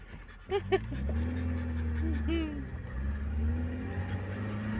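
A dog panting and whimpering inside a car with its engine running, short high whines over a steady low motor drone, close by.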